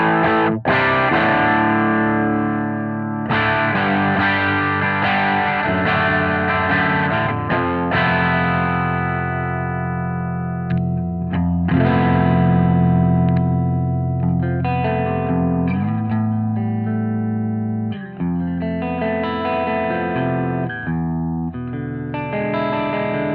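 Electric guitar runs through a Strymon Riverside overdrive pedal with gain pushed up, mids cut and treble boosted, giving a thick, saturated, sustained tone as chords and notes ring on loudly and continuously without talk.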